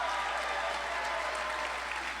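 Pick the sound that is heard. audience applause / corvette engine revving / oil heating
audience applause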